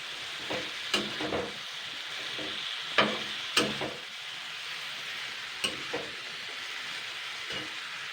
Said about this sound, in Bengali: এবার আমি এগুলোকে ভালো করে নাড়াচাড়া করে নেব